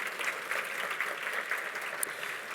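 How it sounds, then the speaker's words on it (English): Steady, moderately faint applause from an audience at the 2022 Rose Festival Honors ceremony, with even clapping throughout and no voices on top. "Now we can clap."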